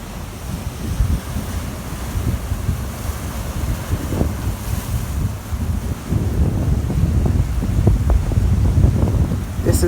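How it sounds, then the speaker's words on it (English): Ocean surf at St. Thomas in the Caribbean, where yachts are docked, washes and splashes along the shore in a steady broadband roar, heavily buffeted by wind rumbling across the microphone. "So you can just hear that water splashing and enjoy the sound of the ocean."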